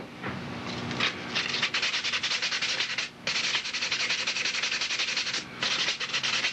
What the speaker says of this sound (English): I can sand it just as I would any other wood product